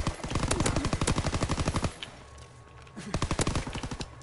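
Automatic machine gun fire in a World War II shooter game rattles in fast, evenly spaced bursts, first a long close volley, then a pause, then a shorter burst, loud and with no speech.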